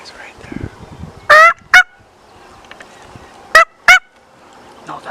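Wild turkey hens call in the open, two sharp pairs of loud, close yelps separated by a pause, with quiet rustling and faint background between them.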